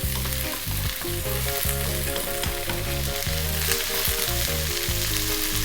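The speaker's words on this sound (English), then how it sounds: "Stir frying this around." Vegetables for veg fried rice are stir-fried in a hot pan, giving a loud, unbroken sizzle with no talking.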